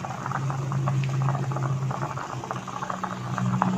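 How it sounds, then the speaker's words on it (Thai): Offal simmering in a pot on the stove, a steady bubbling patter with a low hum beneath, continuous and close throughout with no one speaking. "ต้มเครื่องใน"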